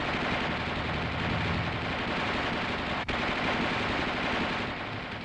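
The coaxial machine gun of an M551 Sheridan armored reconnaissance assault vehicle firing sustained bursts, a continuous rapid rattling roar heard from some distance and broken briefly by one short gap.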